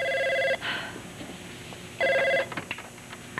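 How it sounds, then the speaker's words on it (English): A telephone bell rings in two loud bursts separated by a pause of more than a second, with faint room noise between the rings. "Answer the phone."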